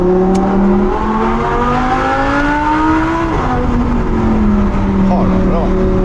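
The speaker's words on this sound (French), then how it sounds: "V10 Atmo quand même, qui monte jusqu'à 8250 tours minute, c'est quelque chose." An Audi R8 V10 Plus with a naturally aspirated V10 revving hard, its loud, close engine note climbing and falling in pitch through several gear-like sweeps for the whole stretch.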